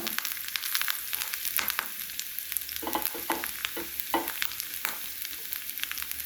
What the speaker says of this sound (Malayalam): നമ്മൾ എടുത്ത് വെച്ചിരിക്കുന്ന ഒരു മുറി തേങ്ങയാണ് ഇതിലേക്ക് ഇടുന്നു